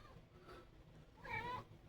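A cat meows once, a faint, drawn-out cry heard indoors against a quiet background.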